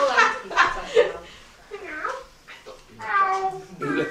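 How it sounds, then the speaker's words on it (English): A cat meowing amid people talking in a kitchen, several short vocal bursts that mix with children's chatter and laughter, fairly close. "Who let the cat in?"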